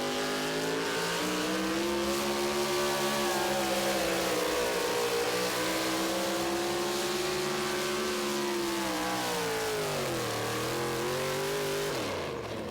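A four-wheel-drive pulling truck roars continuously at the Budweiser Dairyland Super Nationals in Tomah, Wisconsin, its loud engine holding a high rev with a brief dip and climb in pitch near the end.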